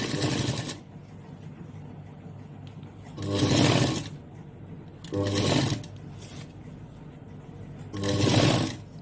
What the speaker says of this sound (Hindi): अब यहाँ पर हमारी स्लीव स्टिच होगी।